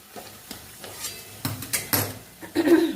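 Metal cookware clatters close by as a lid is set onto a pot of taro leaves being cooked, giving a few sharp clanks and scrapes over a faint sizzle.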